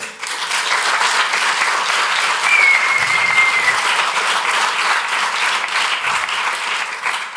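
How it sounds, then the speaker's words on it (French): A crowd applauds loudly and continuously for several seconds in a steady wall of clapping, with a brief whistle rising partway through. "On vous applaudit très fort."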